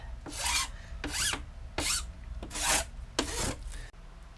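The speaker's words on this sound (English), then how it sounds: "This is still probably not good filing technique." Hand file rasping on wood in five steady back-and-forth strokes, close and moderately loud, with no voices.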